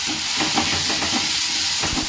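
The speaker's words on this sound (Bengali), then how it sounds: "এটা একটু খালি 2 থেকে 3 মিনিট ভাজা করব, তারপরে দেব ক্যাপসিকাম।" Diced medium onions frying in oil in a pan for hotel-style chilli paneer, a steady close sizzle with soft stirring scrapes throughout and no talking.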